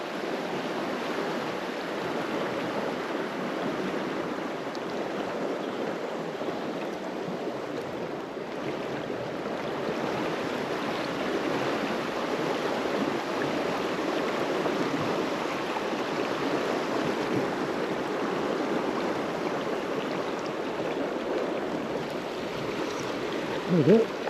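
Fast-flowing river water rushes steadily and close by during a fly fishing outing, a continuous broadband roar with no pauses for the whole stretch.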